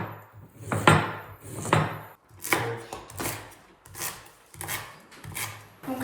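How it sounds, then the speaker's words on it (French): A piece of ginger is peeled by hand in a kitchen, repeated scraping and knife strokes against a board in an uneven rhythm, close and moderately loud. "on va éplucher un morceau de gingembre"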